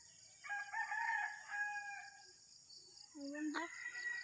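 A rooster crows once at a distance over steady background hiss in rural Quezon province, Philippines, in the morning, followed by a shorter bird call.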